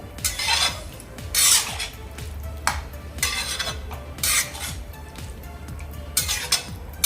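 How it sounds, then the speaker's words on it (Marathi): Eggplant and potato bhaji stirred in a pan, repeated loud scraping strokes of a spoon against metal in an uneven rhythm over a faint sizzle, close up with no speech. "आता एकदा पुन्हा आपण हे मिक्स करून घेऊया ढवळून घेऊया"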